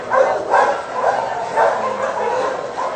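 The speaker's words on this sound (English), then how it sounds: "All the dogs are still here" Dogs at an animal shelter bark and yip in repeated bursts, loud and close, about five or six barks with whimpering between them.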